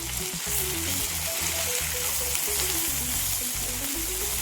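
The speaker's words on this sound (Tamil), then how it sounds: "நல்லா அந்த பச்சை ஸ்மெல் போகிற வர வதக்கி வச்சுக்கலாம்" Curry leaves sauté with onion and garlic in a pan for chutney, giving a soft, continuous sizzle with a melodic tune playing underneath.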